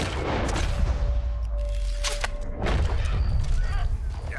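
A single rifle gunshot fired at a deer while hunting in Red Dead Redemption 2 booms loudly over a steady game soundscape, with a voice talking nearby.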